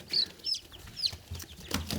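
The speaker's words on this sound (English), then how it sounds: "Isa Browns are very good egg-laying chickens" Isa Brown egg-laying hens give a few short, high chirps and soft clucks close by in a quiet setting, with faint rustling between calls.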